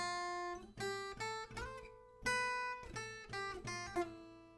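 An acoustic guitar picks a short melodic intro, clear plucked notes ringing in a loose rhythm with slides between some of them, no voices.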